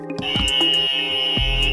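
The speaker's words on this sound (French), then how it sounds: "vous avez été le plus rapide à buzzer" A quiz show buzzer on a road safety quiz sounds as one loud, steady electronic tone lasting under two seconds, alone.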